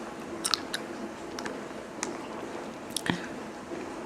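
Close, wet chewing of blueberries with a few soft squishy bites and faint clicks, steady under a quiet background hiss, no speech.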